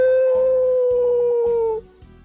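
A voice imitates a wolf howl, one long sustained tonal cry held for nearly two seconds before trailing off, loud and close, alone without other talk.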